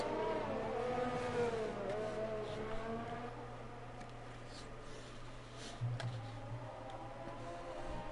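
An Alfa Romeo Formula 1 car's engine in an F1 racing game drones and shifts pitch during qualifying at the Hungarian Grand Prix, moderately loud and continuous, rising and falling with throttle, with faint background noise.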